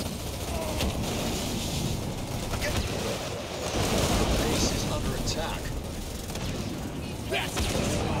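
Dense, continuous video game combat noise with booming blasts and gunfire, grenades thrown at a tower while a base is under attack, loud throughout and overlaid by a talking voice.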